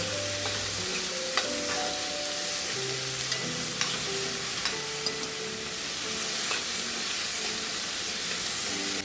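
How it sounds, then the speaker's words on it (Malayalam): Two chopped tomatoes are stirred and sautéed in a pan for a Kerala-style roasted-coconut prawn theeyal, giving a close, continuous sizzle with scattered spatula scrapes and clicks and no talking. "അരിഞ്ഞു വെച്ചിരുന്ന രണ്ട് തക്കാളിക്കുണ്ടല്ലോ അതും കൂടി ചേർത്ത് കൊടുത്ത് ജസ്റ്റ് ഒന്ന് വഴറ്റിയെടുക്കാം"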